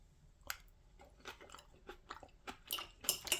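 Close, quiet chewing of a spicy crab cucumber salad with wasabi sauce, crisp crunchy bites of cucumber and crab getting louder and busier toward the end, with no talk.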